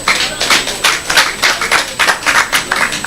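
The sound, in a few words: audience round of applause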